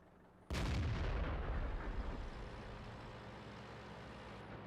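A single loud, heavy tank gun blast from World of Tanks booms out close, then rolls into a long rumbling decay under a steady engine drone.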